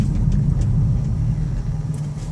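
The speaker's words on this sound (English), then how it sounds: "I'm going to give it a nice hard brake at this green light" A 2003 Ford Windstar LX wheelchair mobility van with 248K miles braking hard at a green light; a steady low road rumble and engine drone from inside the cabin, with no squeal or grinding standing out.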